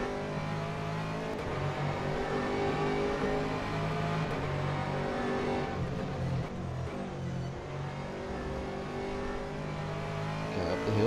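A Porsche GT3 race car in rFactor 2 revs hard and steadily for several seconds, its engine note rising and shifting through gears, loud and continuous with no talk.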